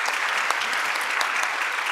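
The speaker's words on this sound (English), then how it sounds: "can we just give a big round of applause for our panelists and Flavia?" At a summit session, the audience applauds its panelists in a thick, even wash of clapping that holds steady throughout, fairly loud and close, with a faint murmur of voices underneath.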